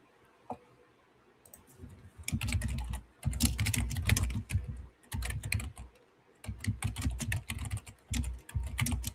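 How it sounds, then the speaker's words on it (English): Fast, heavy typing on a computer keyboard in a live trading support room, close and loud, arriving in dense bursts of rapid keystrokes separated by short pauses, with no voices. "There he is, thumping away at the keyboard."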